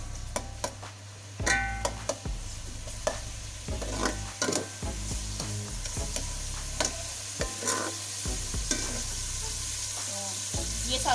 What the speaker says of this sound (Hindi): ये ऐड कर दें, फ्लेम हाई कर दें और इसे सौते कर लें, ब्राउन वगैरह नहीं करना।